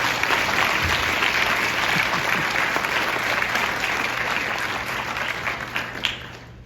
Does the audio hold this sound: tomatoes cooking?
no